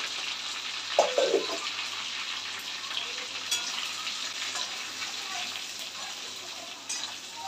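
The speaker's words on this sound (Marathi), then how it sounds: "चांगले फ्राय करून घ्यायचे।" Stuffed brinjals sizzling and frying in masala in a pan, a steady hiss with occasional stirring knocks and spatters, no voices.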